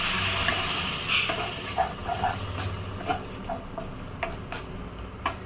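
Egg thokku gravy simmering in a pan after a little water is added, giving a close, steady steamy hiss broken by irregular soft bubbling pops and ticks, with no voices.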